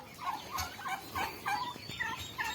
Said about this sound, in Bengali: এই যে পাশে বেড়া টার্কিগুলো ঘুরঘুর করতেছে।